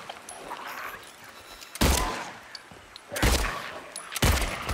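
Gunshots fired at small monsters in Silent Hill 2: three loud, separate blasts spaced about a second apart over a murky, rumbling game ambience, with no talking.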